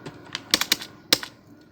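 Computer keyboard typing at close range, a short burst of about eight uneven keystrokes with a pause between, clicky and distinct.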